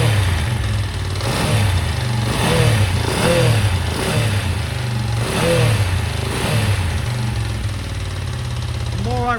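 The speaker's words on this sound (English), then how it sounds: "I run the bike up," A ten-year-dormant Ducati motorcycle engine runs up after restoration, its loud, steady throb rising and falling in repeated revs, close by and continuous throughout.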